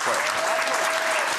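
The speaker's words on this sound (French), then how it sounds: "Je vois qu'on applaudisse très fort, bravo." A studio audience at a French television show applauds loudly, a dense, steady wash of clapping hands that fills the whole short moment with no pauses.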